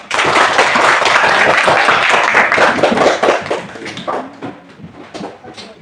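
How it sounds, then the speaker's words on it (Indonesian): A classroom of students applauds a classmate who led the prayer, with loud, dense hand clapping that carries on steadily for several seconds and then thins out and fades near the end. "Kita tepuk tangan untuk teman kita yang memimpin dalam doa."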